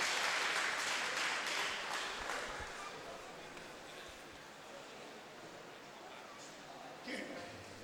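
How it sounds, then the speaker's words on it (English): A large arena crowd at a karate world cup bout applauds, a dense wash of clapping that starts loud and slowly eases off over several seconds while a commentator talks over it. "the Canadian fighter receiving a great applause by the crowd"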